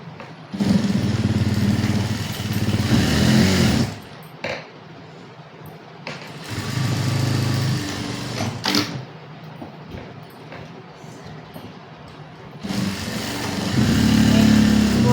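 A sewing machine stitching a sleeve, its motor running in several long bursts of steady whirring hum separated by short pauses, close and loud.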